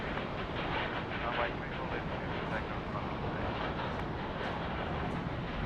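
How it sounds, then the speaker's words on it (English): A Qantas airliner taking off from Sydney Airport for Singapore: a loud, steady broadband engine roar with no clear peaks, heard from a distance throughout the whole stretch. "We've now got cleared for takeoff at Qantas 81 off to Singapore."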